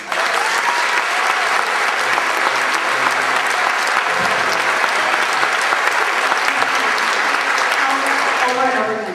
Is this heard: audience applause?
yes